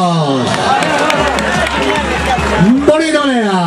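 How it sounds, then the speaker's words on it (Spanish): Crowd at a fight event clapping and cheering, a dense roar of voices and applause with loud speech over it, close and continuous. "Vamos a brindarles fuertes aplausos."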